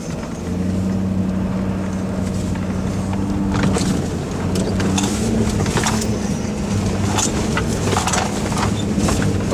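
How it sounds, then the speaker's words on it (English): Ford truck chugging through deep mud on a pipeline right-of-way, a steady low engine rumble with droning tones throughout, close and continuous, with wind and rattling bursts over it. "You'd feel the power that the Ford has chugging through this mud."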